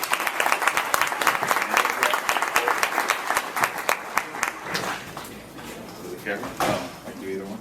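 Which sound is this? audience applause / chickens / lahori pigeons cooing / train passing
audience applause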